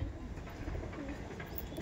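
Madrasi pigeons coo in a steady, low murmuring stream, close and fairly quiet, with soft overlapping calls and no talking.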